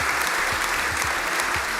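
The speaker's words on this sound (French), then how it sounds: "Et c'est pas fini, ils applaudissent encore," An audience applauding at a French political satire show: dense, sustained clapping that stays loud and even throughout, with no break or voice rising above it.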